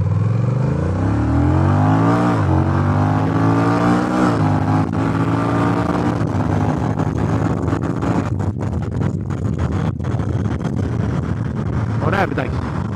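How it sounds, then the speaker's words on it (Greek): A small motorbike rides along a road with a steady engine drone that shifts pitch as it revs, heavy wind rushing across the microphone, and a rider talking over it. "Αρκετά άνετο το μηχανάκι."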